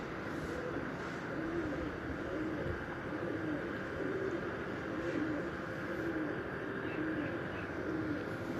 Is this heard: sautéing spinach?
no